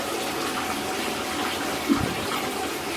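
Water runs steadily into a bath for a corn snake, a close, even rushing flow with a brief splash partway through.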